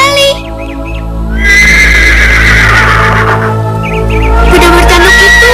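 A fantasy horned horse whinnies in a magical forest, a bright, drawn-out neigh rising loudly over a steady musical score, with a few short chirps and a second fainter whinny near the end.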